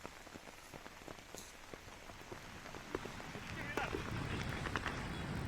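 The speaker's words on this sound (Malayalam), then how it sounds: "അല്പസമയം മുമ്പാണ് ശക്തമായ മഴ വീണ്ടും തിരുവനന്തപുരത്ത് ആരംഭിച്ചിരിക്കുന്നത്" Steady heavy rain pours down in Thiruvananthapuram, Kerala, hissing broadly and growing louder and denser toward the end, with scattered drops spattering nearby.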